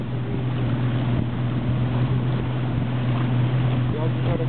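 Motorboat engine droning steadily through the mangroves of Los Haitises, Dominican Republic, a constant low hum with wind noise over the microphone, with no pauses across the stretch.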